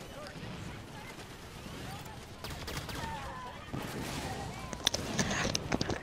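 Turret gunfire in the Halo 5 Guardians campaign rattles in rapid bursts, growing louder toward the end with sharp impacts, while a player talks over the action.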